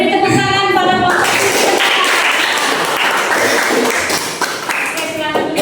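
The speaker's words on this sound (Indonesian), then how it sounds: "beri tepuk tangan pada kelompok" A classroom of students claps for a group of classmates after their presentation, a burst of fairly loud, continuous applause with some chatter mixed in.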